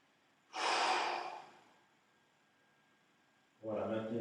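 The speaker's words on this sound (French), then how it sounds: "On maintient et on expire." Audible exhalation while holding a chest and shoulder stretch during a strength workout: a strong breathy blow lasting about a second, followed near the end by the start of a voiced breath or sound, close to the microphone.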